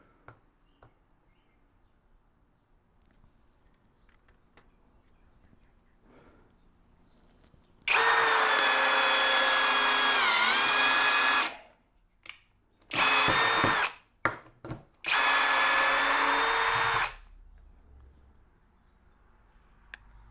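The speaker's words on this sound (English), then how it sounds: "let's put this all the way over into drill mode to see how far we can sink this screw" A Kobalt 24V right angle drill in drill mode drives a screw in three loud, steady bursts, the first long and the next two shorter, with quiet pauses between them.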